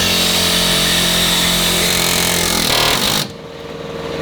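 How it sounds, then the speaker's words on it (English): An air hammer driven by a 20-gallon air compressor pounds loudly and continuously against a rear leaf spring shackle on a Chevy truck, then cuts off abruptly near the end, leaving a low hum. "I should be able to do more hammering before I have to wait for the air tank to refill."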